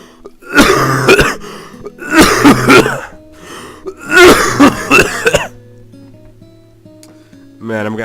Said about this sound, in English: Man, I'm gonna need to edit some of these coughs out